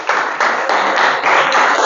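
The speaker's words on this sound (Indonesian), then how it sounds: "kasih aplaus untuk kelompok" Classroom applause for a presenting student group, a short burst of brisk, dense clapping from many hands at close range, lasting about two seconds.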